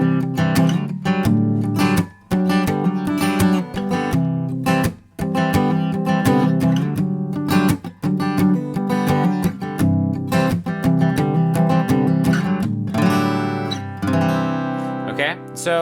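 Electric guitar playing a palm-muted exercise with interesting chord voicings, dense, steady and loud for about sixteen seconds, with short choppy gaps between muted strums and no talking.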